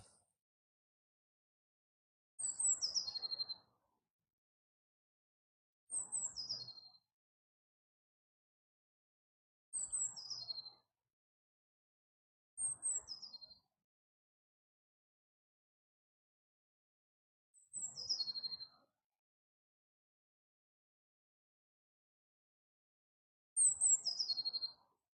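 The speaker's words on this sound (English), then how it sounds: "see if I can see what that bird is making that song" An unidentified bird sings in woodland beside a creek, repeating short, high, bright phrases six times at steady intervals of a few seconds, clear and moderately distant against near silence.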